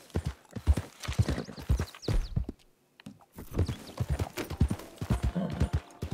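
Rhythmic hoof clip-clops of a horse at a steady walk in the video game Red Dead Redemption 2, fairly close, with a brief pause midway before the hoofbeats resume.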